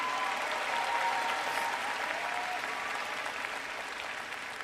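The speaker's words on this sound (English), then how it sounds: "I want you all to give a round of applause for your family and friends here today" Sustained audience applause fills a university commencement ceremony at UCLA, a dense, steady wash of many hands clapping at even loudness throughout, with no speech over it.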